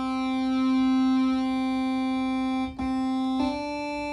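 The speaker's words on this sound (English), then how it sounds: "Square wave." A sustained square-wave tone from a Sequential Take-5 synthesizer oscillator, a bright buzzy drone with strong harmonics, loud and close, with a brief dip and a small click partway through.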